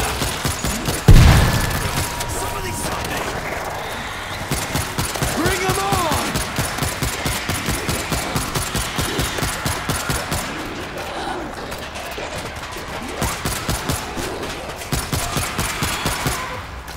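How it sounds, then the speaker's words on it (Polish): Exploding ammunition in World War Z rattles off as rapid, rhythmic bursts of gunfire with an early loud boom, steady and dense throughout the combat noise. "Wybuchająca amunicja, ona naprawdę"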